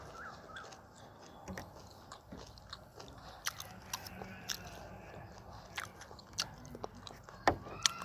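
Close chewing of grilled pork intestine, with irregular wet bites and occasional crunchy snaps over a quiet background, louder toward the end, with no talk.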